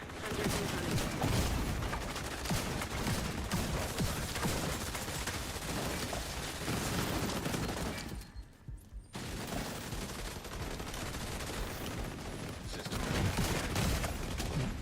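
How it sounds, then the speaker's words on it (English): Sustained automatic gunfire in The Division 2, a dense, loud, continuous barrage that cuts out briefly partway through and then resumes. "he stopped shooting the other guy to shoot me"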